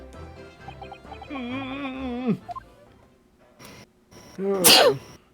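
A character in the courtroom adventure game The Great Ace Attorney lets out a sharp, loud sneeze near the end, preceded by musical tones and sound-effect jingles.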